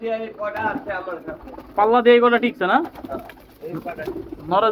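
Caged pigeons cooing in a loft during winter, several soft throaty coos close by in uneven bursts, with someone speaking briefly among them.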